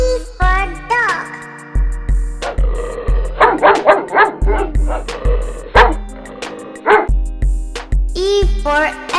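A dog barks again and again in a quick, loud run of yaps and bow-wows, set over a steady bouncy children's song beat.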